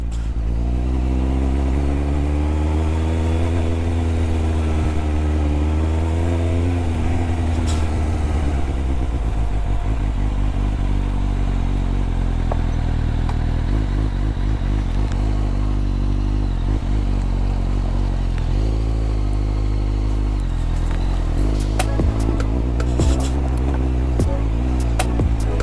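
A superbike motorcycle engine runs steadily while off-roading, a loud continuous low rumble with rising and falling revs and occasional clatter, close and alone without talk.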